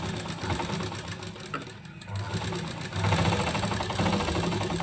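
A sewing machine stitching baby frock fabric runs in a fast, steady mechanical rattle, pauses briefly, then starts again slightly louder.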